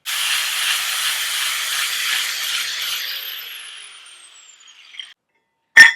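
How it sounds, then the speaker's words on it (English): Rusty metal on a Ford Bronco is ground down for a weld during a leaf spring install. A loud, steady abrasive hiss runs for about four seconds, then fades out as the grinder winds down, followed by a brief sharp clack. "I have to grind onto here to make sure I'm going to get a good weld"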